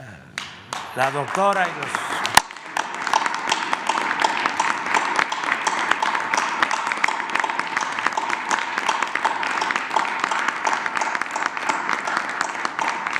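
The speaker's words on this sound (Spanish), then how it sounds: "Nada más terminamos con un aplauso aquí para" Audience applause at a press conference, a dense, steady clapping that builds quickly after a brief spoken line and carries on loudly for over ten seconds.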